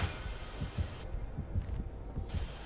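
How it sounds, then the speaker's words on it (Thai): A steady, thumping heartbeat pulses in the Dead by Daylight video game, with low, regular beats repeating over a faint hum and no talking. "ได้ยินเสียงหัวใจ"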